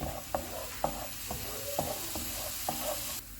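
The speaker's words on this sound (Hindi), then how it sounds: "3 मिनट के बाद इसमें अदरक और लहसुन का पेस्ट डालेंगे। इनको 1 मिनट तक फ्राई करेंगे।" Ginger garlic paste frying in a pan for chole, a steady sizzle broken by a regular series of spatula strokes scraping the pan, close and fairly quiet, ending abruptly.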